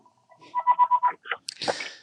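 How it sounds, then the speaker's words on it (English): A house telephone rings in a short electronic trill of rapid repeated pulses, then a clatter of handling noise follows, close and fairly loud with no voices. "my house phones are ringing"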